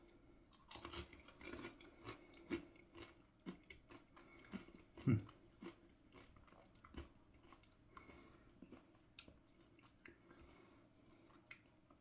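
Someone eats tortilla chips dipped in a creamy cilantro hot sauce. Faint, close crunches and chewing come in irregular bursts over about twelve seconds of otherwise quiet room.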